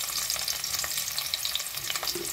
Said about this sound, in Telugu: ఇప్పుడు నెయ్యి అంతా కరిగిపోయాక ఒక పెద్ద సైజు ఆనియన్ నిలువుగా కట్ చేసి వేసుకోవాలి